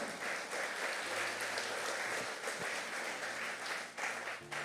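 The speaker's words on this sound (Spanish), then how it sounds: "Dele el aplauso al Señor." A church congregation claps in steady, sustained applause during a Spanish-language sermon, a dense roomful of hands filling the space at an even level throughout.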